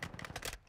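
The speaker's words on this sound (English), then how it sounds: "Switching mags." Someone swaps a weapon magazine in Call of Duty Modern Warfare 2. A quick, faint string of mechanical clicks and rattles passes in under a second, close by.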